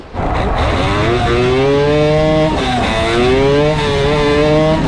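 A six-rotor Mazda RX7 engine screams through loud, close revs, climbing and falling in pitch in sustained sweeps with a brief dip between pulls, and no voices over it.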